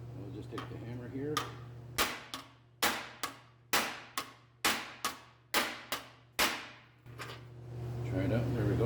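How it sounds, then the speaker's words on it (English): A hammer strikes sheet metal on a second-generation Firebird floor pan, about a dozen sharp ringing blows in a steady rhythm, loud and close, with a low hum underneath and brief talk at the start. "And now for the noisy part, get a hammer."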